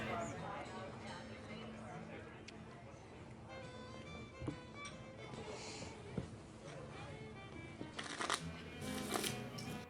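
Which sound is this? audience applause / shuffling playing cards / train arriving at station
shuffling playing cards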